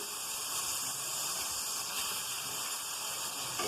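Chicken pieces frying in oil in a pan while elbow macaroni is being prepared, giving a steady, close sizzling hiss that holds evenly throughout with no talking.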